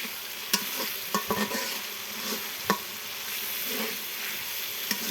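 Spice paste (masala) being fried and stirred in a pan while cooking prawn fritters, with a steady sizzle and occasional sharp scrapes and clinks of a spoon against the pan, close and alone.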